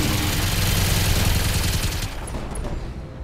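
Continuous gunfire from a mech in an urban warfare combat video game, a heavy, rumbling, steady stream of shots that holds loud and gradually eases off, with no talking.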